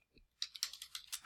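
A computer keyboard is typed on in a short burst of about seven crisp, close keystrokes with a faint click before them, in an otherwise quiet room.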